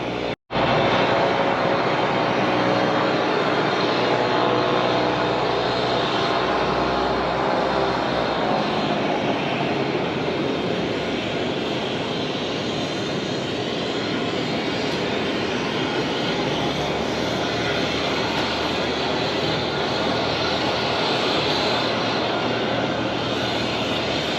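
Propeller engine of a Pitts aerobatic biplane flying in a two-ship formation, a loud steady drone filling the cabin from start to finish with a sharp onset and no talking.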